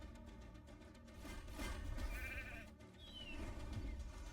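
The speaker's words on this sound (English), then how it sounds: "Oh, we got sheep." Sheep bleating in a Smite arena match, a few short nasal bleats over a busy game-sound bed with brief tonal chirps, the bleats rising and falling in loudness.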